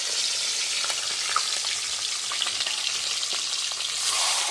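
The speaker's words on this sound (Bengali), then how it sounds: "তেলটা গরম হয়ে গেছে এবার মাছের মাথাগুলো দিয়ে দেবো" Rohu fish heads fry in hot mustard oil in a wok, a loud even sizzle and crackle running throughout with small pops and spatter.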